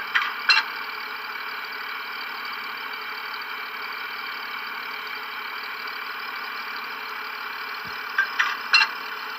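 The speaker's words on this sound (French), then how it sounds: "le son du moteur change à l'arrêt" A steady electronic engine drone from a Roco Y8504 model locomotive under digital Z21 control, humming evenly at rest, with a few brief clicks and mechanical ticks near the start and end.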